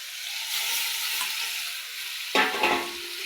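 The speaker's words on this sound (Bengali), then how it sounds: "এই দেখো মাছগুলো ভালোভাবে নেড়ে ছেড়ে নিচ্ছি।" Fish sizzles steadily in hot spiced masala with okra, frying loudly and continuously. A scraping stir near the end briefly stirs up the crackle.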